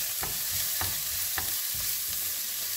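Onion sautéing in a pan for stuffed cabbage, a steady close sizzle with rhythmic stirring scrapes roughly every half second, moderately loud and without talk.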